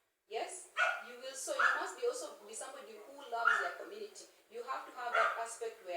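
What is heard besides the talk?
dog barking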